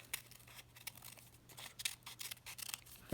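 Scissors snip through a paper card while cutting out a heart shape, giving a run of quiet, crisp cuts with a steady low hum underneath and no talking.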